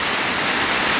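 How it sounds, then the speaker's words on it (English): A small waterfall at Hanging Rock State Park in North Carolina gives a loud, steady, close rushing roar with no pauses. "And this is the waterfall."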